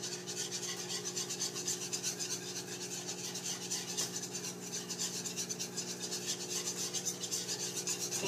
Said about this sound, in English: stirring the flour and the butter together with the whisk. I'm just doing it in little circles.